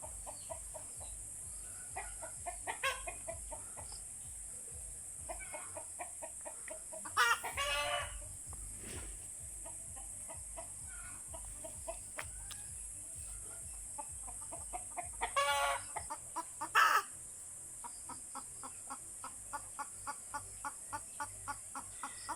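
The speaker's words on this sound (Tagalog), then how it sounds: "At ito naman po yung aking kulungan ng native na manok." Native chickens cluck in a bamboo coop on a Filipino farm, with repeated close clucks, a few louder squawking bursts and a steady high insect drone behind them.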